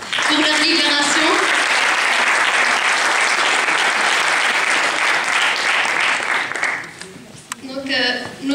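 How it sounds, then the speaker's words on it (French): Loud sustained audience applause at a political meeting in Morocco, dense clapping from a crowd that holds steady for several seconds before thinning out, with a voice speaking over it near the end. "Et pour l'occasion, nous l'applaudissons pour leur libération."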